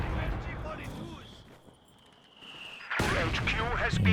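Mortar fire and battle sounds in the Company of Heroes 2 war game: booming explosions and gunfire, loud at the start, fading to a lull, then a sudden heavy burst. A commentator talks over them.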